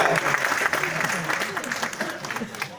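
Clapping from the audience at a live show, brief and fairly loud, with voices mixed in among the applause.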